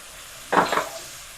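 Garlic for a tikka masala drops into a hot frying pan and sends up a sudden close burst of sizzling that fades within about half a second.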